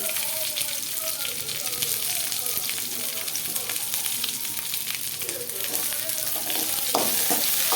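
Dried red chillies and onion frying in a pan give a steady sizzle and crackle throughout, with clatters of stirring toward the end and a voice talking over it.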